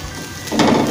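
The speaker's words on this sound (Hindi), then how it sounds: "एक बारीक कटी हुई हरी मिर्च और इसे भून लेंगे, बारीक कटा हुआ गाजर" Grated ginger, finely chopped green chilli and carrot fry in a hot pan; a quiet start gives way halfway through to a louder, steady crackling sizzle.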